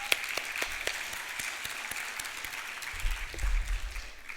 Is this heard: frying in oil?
no